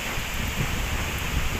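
Heavy, unrelenting typhoon rain pours down in a dense, continuous hiss with a low rumble beneath, steady and loud throughout with no voices.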